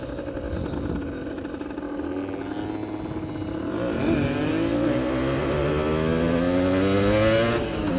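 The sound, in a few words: motorcycle riding on the road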